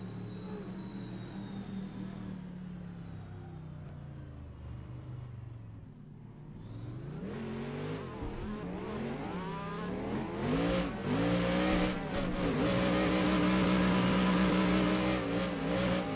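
Car engine in a drift racing video game revving up from a low idle drone, climbing in pitch through repeated rising sweeps and holding a loud, buzzing high rev toward the end.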